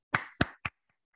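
A class in a business English session claps in unison on a count, three sharp, evenly spaced claps followed by a couple of faint stray ones.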